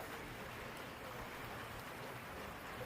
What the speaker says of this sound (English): It's a-raining. The rain's finally moved in.